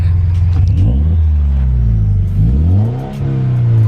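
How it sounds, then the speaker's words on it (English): A warmed-up car engine idles with a deep rumble, then is revved a couple of times, the pitch rising and falling in smooth swells, loud and close with no talk. "Should I rev it up a couple?"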